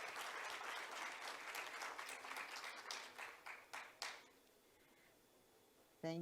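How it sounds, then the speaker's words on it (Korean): An audience at a university leaders' forum claps steadily in a dense, even wash of applause that thins into scattered final claps and fades out. "큰 박수로 맞아주십시오."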